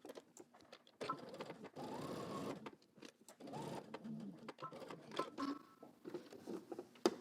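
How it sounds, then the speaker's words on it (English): A sewing machine stitches a bodice in short separated bursts of whirring, close and moderately quiet, with pauses between runs. "now we're gonna move down and then sew between the other two dots."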